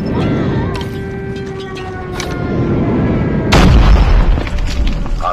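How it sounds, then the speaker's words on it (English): Enemy airstrike in Call of Duty, a Krig 6 match: steady background rumble and gunfire build up before a heavy, loud explosion bursts in and rumbles on to the end. "Enemy airstrike incoming."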